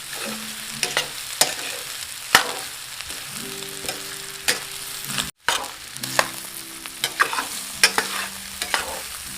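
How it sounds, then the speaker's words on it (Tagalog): Paklay ingredients stirred in a sizzling pan, repeated scraping and knocking of a spatula against the pan over a steady frying hiss, close and fairly loud, with no talk. "Paghalu-haluin natin para lahat ng mga ingredients manuot"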